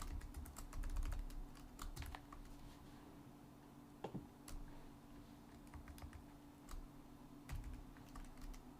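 Someone types on a computer keyboard in quiet bursts of soft, irregular key clicks, close by and faint, with pauses between short runs and no talk.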